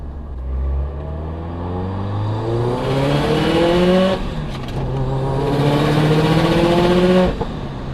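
A loud, heavily modified 2011 Subaru WRX STI with equal-length headers revs hard through the gears, the engine note climbing repeatedly with a brief dip between pulls, close and continuous.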